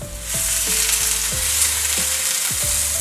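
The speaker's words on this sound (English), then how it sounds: "And you can hear it sizzle, like that's good." Chicken thighs sizzle skin side down in a hot cast iron skillet, a loud, dense crackling hiss that fills the whole moment, with a low hum underneath.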